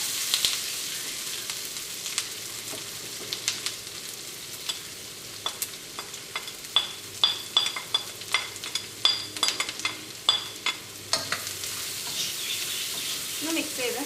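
Onions and turmeric fry in a pan for Kozhikode chicken biryani, a constant hiss of sizzling broken by a run of sharp, rhythmic clicks and scrapes as a spoon stirs against the pan, with no voices.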